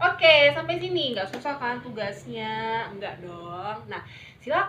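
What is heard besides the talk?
No everyday noises stand out.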